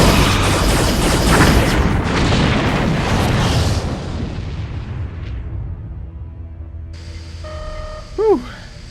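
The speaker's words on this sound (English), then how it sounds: "Klingon battlecruisers confirmed destroyed." Booming explosions of Klingon battlecruisers destroyed in a space battle in an audio drama, a dense, loud barrage that fades into rumble, followed by a short electronic chirp near the end.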